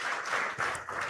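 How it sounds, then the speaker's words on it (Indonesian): Audience applause at an Indonesian regional government gathering, greeting Home Affairs Minister Tito Karnavian; a brief, dense burst of many hands clapping at moderate loudness, with no voices. "tepuk tangan untuk beliau"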